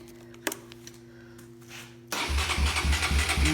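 After faint rustling and a single click, a Honda CRF150F dirt bike engine suddenly catches and fires up, settling into a loud, rhythmically pulsing idle.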